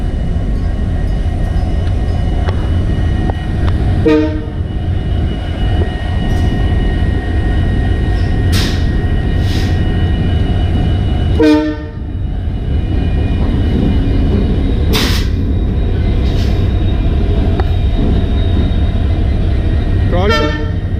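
An Indian Railways locomotive at Yesvantpur station drones loudly and continuously nearby, with a few short horn toots and distant sharp bursts cutting through the engine rumble.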